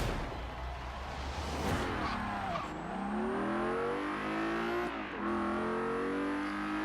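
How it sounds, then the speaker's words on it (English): The supercharged Quartz Regalia from Forza Horizon 3, fitted with a centrifugal supercharger, revs and accelerates through gear changes, its engine roar joined by a high, rising supercharger whistle, loud and close, with no talking. "You can hear the whistling of the supercharger. It's a centrifugal supercharger"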